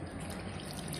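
Water poured into a flour mixture for traditional Algerian chakhchoukha dough, a steady soft trickle and splash running continuously at moderate level with no talk.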